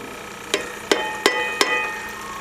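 Dry spices such as turmeric, salt, coriander and red chilli being fried in a pan for aloo palak, with four evenly spaced spatula scrapes over a steady low sizzle.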